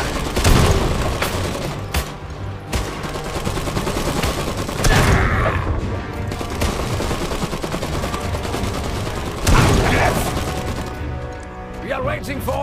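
Dense gunfire and booming explosions crackle in a real-time strategy battle in the video game Iron Harvest, a continuous loud fusillade with sharper bursts near the start, middle and end, no talk over it.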